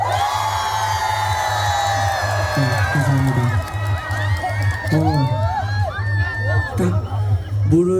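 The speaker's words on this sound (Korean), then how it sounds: "괜찮았다면 박수와 함성!" Festival crowd at an outdoor fish festival cheering, whooping and shouting after a singer's performance, a loud sustained roar of voices over steady low music, with bursts of excited shouts throughout.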